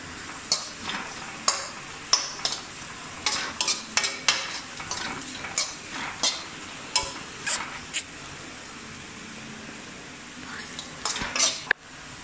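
Potatoes fry in a pan for aloo bindi masala while a spoon stirs them, giving repeated sharp metallic scrapes and clinks in an irregular rhythm over a faint steady sizzle, close by.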